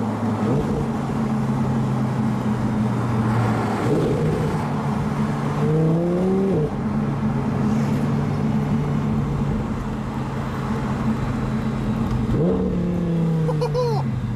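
Convertible car driven at full throttle with the windows down, engine droning loudly with rising revs and gear changes, wind rushing throughout, close and constant.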